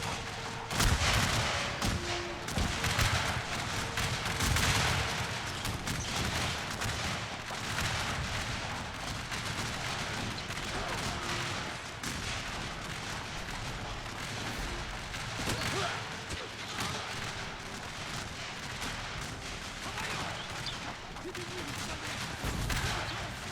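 Massed musket gunfire in a Shogun 2 Total War battle rolls on without pause, with dense crackling volleys and deeper booming reports layered over a continuous battlefield roar.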